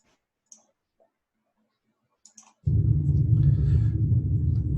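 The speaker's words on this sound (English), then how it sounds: "let's have more of just the sound of the ship" A few faint clicks and ticks, then a sudden steady low rumbling spaceship hum starts and continues loudly, like a deep ambient drone.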